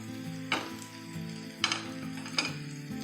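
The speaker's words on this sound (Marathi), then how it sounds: "हे तेल एवढंच तेल आपण सगळीकडे पसरवत आपण तळून घेणार आहोत, म्हणून मी नॉनस्टिकवर ठेवलं आहे त्यांना" Colocasia leaf rolls (aluvadi) fry in a little oil on a nonstick pan, giving a soft, steady sizzle over a low hum, punctuated by three sharper bursts of spitting as the pieces are moved.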